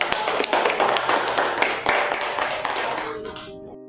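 A class of students claps steadily in a classroom, a dense patter of hands that fades out near the end.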